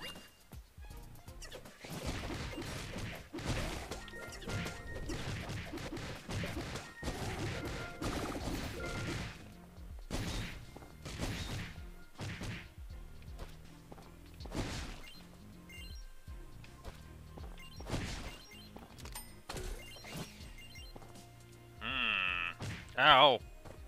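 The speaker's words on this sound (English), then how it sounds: "That was other creatures getting destroyed by those axes." Creatures being smashed apart by axes in The Adventure Pals video game, a rapid series of loud crashing and thwacking hits with game music and effects throughout, one bright chime near the end.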